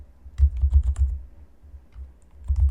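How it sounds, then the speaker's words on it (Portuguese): Typing on a computer keyboard: a close, fast burst of key clicks, a short pause with faint taps, then another quick run of keystrokes. "Eu posso criar digitando aqui"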